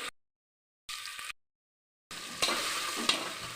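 Cumin, garlic cloves and green chilies frying in oil inside a pressure cooker for tomato chutney, bursts of bright sizzling hiss broken by abrupt silences, with a couple of stirring clicks.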